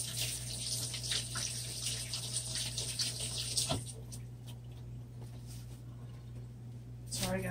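A running tap streams steadily into a sink while acrylic paint from a flip-cup pour is washed off, a soft continuous hiss over a low hum, with a brief clunk midway.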